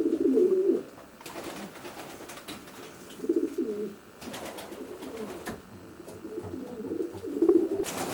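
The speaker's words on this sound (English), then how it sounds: "Beautiful pigeon, eh? Wonderful eyed pigeon too." Racing pigeons in a stud loft on Dartmoor cooing softly and repeatedly, low murmuring calls recurring close by over quiet background noise.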